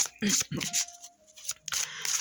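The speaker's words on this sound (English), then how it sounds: "I wonder why I was shuffling this one" Tarot cards being shuffled by hand in short papery bursts, with a few brief rustling flurries separated by pauses and a voice talking quietly in between.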